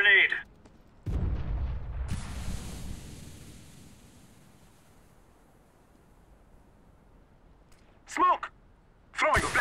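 Grenade explosion in CS:GO: a deep, rumbling blast hits after a short silence, then slowly fades into a long hissing tail, with brief voices calling out before and after it.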